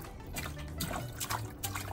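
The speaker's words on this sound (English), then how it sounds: "Splash, splash." A child splashing in water outdoors, with a continuous burbling of small splashes and drips close by.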